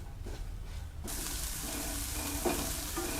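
Chopped onion, green chilli, garlic and ginger frying in a pan for chilli garlic prawns, a dense continuous sizzle that swells after a quieter start, with faint stirring knocks.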